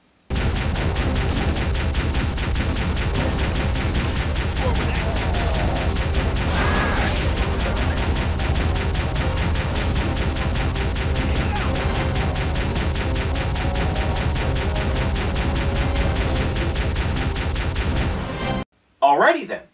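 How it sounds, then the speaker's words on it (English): Sustained rapid turret fire in Halo, a dense continuous stream of shots running for almost twenty seconds at close range, then cutting off abruptly into a short final burst. "I decided to see what the turret could do."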